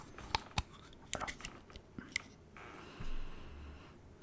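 Close, quiet mouth sounds while tasting an INSHAPE drink product: scattered wet clicks, lip smacks and small crunchy bites, then a soft swallow-like rush near the end.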